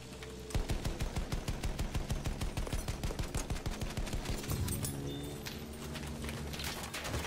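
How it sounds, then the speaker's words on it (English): Rapid infantry gunfire from Battlefield 1 rattles in dense, loud volleys, steady bursts giving way midway to a rolling wash of overlapping shots and rumble. "Infantry fire."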